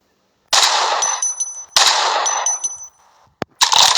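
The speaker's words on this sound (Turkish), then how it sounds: "İşte Boralon'un en sevdiği silah bu." Automatic gunfire from a weapon mod in a video game rattles out in two long, loud bursts, followed by a single sharp shot and the start of a third burst.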